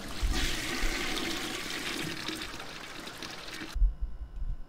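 Toilet flush in the video game Death Flush, a loud rushing, gurgling water surge that runs for several seconds and then cuts off abruptly, leaving brief low rumbles.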